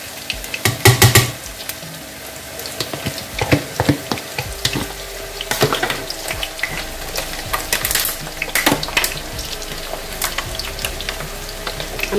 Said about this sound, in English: we'll stir fry this until your onion is translucent